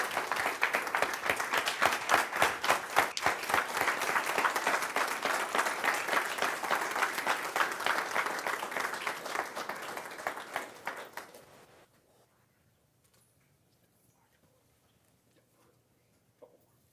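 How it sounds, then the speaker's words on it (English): A city council chamber audience gives a long round of applause during a work session, many hands clapping loudly and evenly for about eleven seconds before fading quickly to near silence. "How about a big round of applause?"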